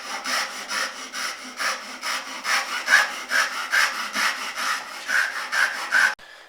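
Hand saw cutting wood for a dovetail joint, a close, rhythmic back-and-forth rasping of regular strokes, roughly two per second, ending abruptly.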